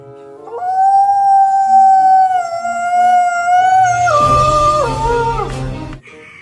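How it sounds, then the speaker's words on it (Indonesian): A wolf gives one long, loud, wavering howl that holds steady, then drops in pitch and breaks into a rough, noisy ending before cutting off. "Wih, benar. Ada serigala."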